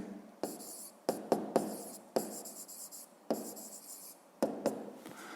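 Pen writing on paper during a 5th-grade math lesson, a series of close scratchy strokes with short pauses between words, alone and fairly quiet.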